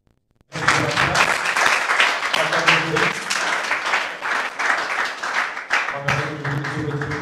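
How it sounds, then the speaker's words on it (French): A TV studio audience at a children's eloquence competition bursts into loud, sustained applause after a brief silent start, dense clapping continuing steadily to the end with a slight swell near the close. "On acclame encore la délibération"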